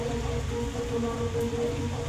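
Steady rain falls outdoors in Odisha, a continuous close hiss of drops without pauses or other distinct sounds.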